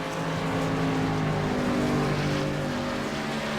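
Race cars on the oval at Dover International Raceway, a dense continuous engine roar with layered droning tones as the field runs past, loud and sustained throughout.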